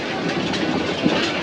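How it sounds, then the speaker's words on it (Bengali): A passenger train near Sreemangal rolls along the tracks with a close, steady rumble and clickety-clack of wheels, brief and continuous, without speech. "আমরা ট্রেনে করে যাচ্ছি, আর ট্রেনটা স্লো করার সাথে সাথেই"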